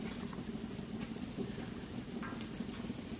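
Butter sizzles and crackles on a hot flat top griddle, a steady close frying hiss with small pops and no voices.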